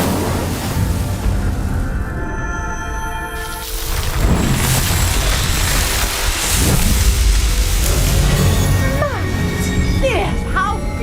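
Fire spell cast in a Wizarding World video game, igniting pyres with a loud roaring, crackling whoosh that swells over rumbling ambience, with a voice speaking over it.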